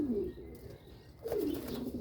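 Soft, low pigeon coos sound twice, one near the start and one about halfway through, close by over a quiet background murmur with faint chirps.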